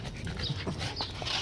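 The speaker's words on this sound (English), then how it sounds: "He's a chihuahua." A chihuahua pants softly in quick, short breaths close to the microphone, faint over a low background hiss.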